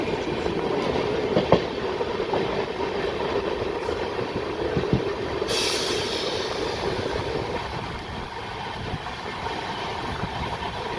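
A train runs from Sevoke past Gulma station toward Siliguri, heard from on board as a steady, loud rolling rumble with faint clicks of the wheels over the rails throughout.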